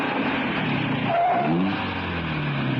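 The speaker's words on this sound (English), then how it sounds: "The car comes too fast." A car speeds past in a radio drama, a continuous engine roar with a rising whine as it rushes by, loud and steady for a few seconds with no voices.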